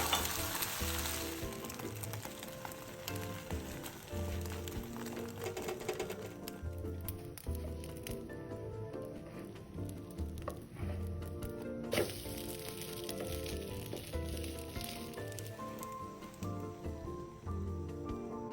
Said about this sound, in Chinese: 想吃几片就煎几片